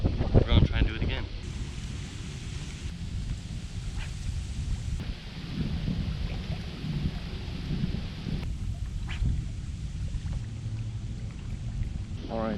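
Strong wind blows across open water during a bass fishing outing, a continuous roaring rush that buffets the microphone, with brief small knocks and splashes in the mix.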